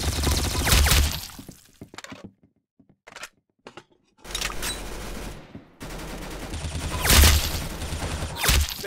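Loud gunshots crack out in several bursts, some rapid and overlapping like a volley, separated by brief near-silent gaps, with a heavy, close punch and echoing tails.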